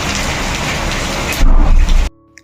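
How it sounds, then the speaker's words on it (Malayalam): Steady rain falling outside, as seen from a kitchen balcony, a dense loud hiss on surfaces that swells briefly louder before cutting off abruptly. "മഴ നോക്കിയേ, കിച്ചൺ ബാൽക്കണിയിൽ നിന്ന് നോക്കുമ്പോഴുള്ള മഴയാണ്."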